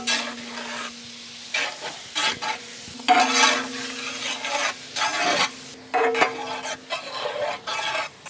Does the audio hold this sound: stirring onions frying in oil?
yes